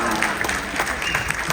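An audience at a stand-up comedy show on board the Celebrity Reflection cruise ship claps together in a dense, steady spatter of applause that lasts the whole moment.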